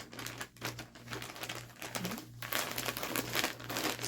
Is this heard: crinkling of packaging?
yes